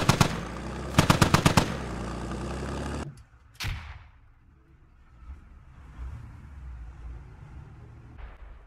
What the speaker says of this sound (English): Oh, trading shots.